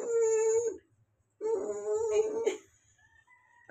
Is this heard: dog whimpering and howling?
yes